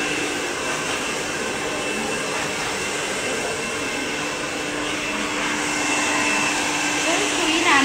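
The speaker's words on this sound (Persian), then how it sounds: "برند سشوار پرنسلی هستش." A Princely brand hair dryer blows in a salon during a women's pixie cut, a loud, steady whooshing roar that runs unbroken and swells slightly toward the end.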